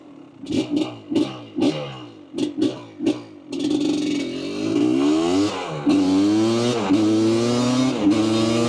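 A six-speed race quad that sat unused for ten years revs up close and loud, first in a quick string of sharp throttle blips and then in sustained, rising and falling revving.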